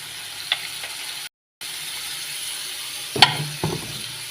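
Soy sauce sizzling in a pan of squid and tomatoes, a steady broadband hiss with a couple of brief scrapes of stirring near the end.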